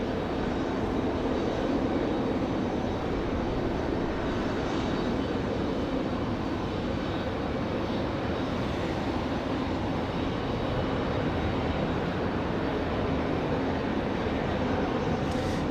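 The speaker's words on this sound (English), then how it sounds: "This Challenger here taking quite the long time to come off the runway." A Bombardier Challenger business jet slowly taxis off the runway at Raleigh-Durham International Airport at night, giving a steady, loud, broadband engine roar and whine that holds level throughout with no talking.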